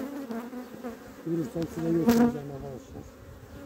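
Honeybees hum in a dense swarm at an open hive during beekeeping, a steady buzzing drone that swells in the middle as someone speaks Turkish over it.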